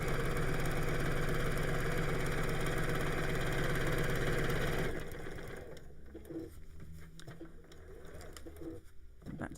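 A sewing machine runs steadily around the edge of a fabric pocket, a loud continuous whirring drone for several seconds, then stops, leaving quieter, irregular handling clicks.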